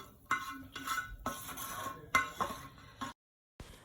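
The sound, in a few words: stirring coconut rice with smoked fish in a pot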